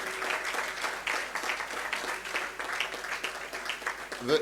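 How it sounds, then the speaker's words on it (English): A dense round of applause from the audience at a celebration of three decades of South Africa–Nigeria diplomatic relations, steady and sustained throughout with no speech over it. "Let's give a round of applause to him"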